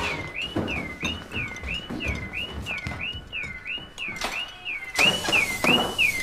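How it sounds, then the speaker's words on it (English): A car alarm wails in a repeating rising-and-falling electronic siren, cycling steadily over a busy outdoor background, louder and closer toward the end. "What the hell is that? My car alarm!"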